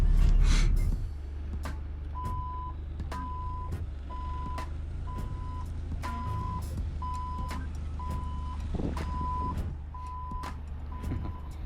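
A truck's reversing alarm beeps in a steady, evenly spaced series of about ten tones over a low idling diesel rumble, close and clear after a brief louder engine burst at the start.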